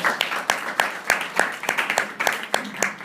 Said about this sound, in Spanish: otro aplauso para Luis Raín